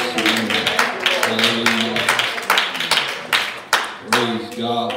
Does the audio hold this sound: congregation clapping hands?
yes